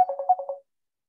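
A phone rings in a quick burst of five short electronic tone pulses, moderately loud and alone, then cuts off abruptly as if answered, leaving silence.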